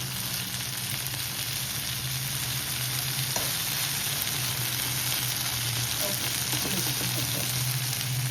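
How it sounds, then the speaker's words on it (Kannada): Soya chunks fry in a pan with a steady, even sizzle that runs throughout, with occasional faint stirring scrapes and a constant hum underneath. "ಆಲ್ಮೋಸ್ಟ್ ಒಂದು 10 ಮಿನಿಟ್ಸ್ ಹುರಿದ್ವಿ ಗೈಸ್, ಫ್ರೈ ಮಾಡಿದ್ವಿ."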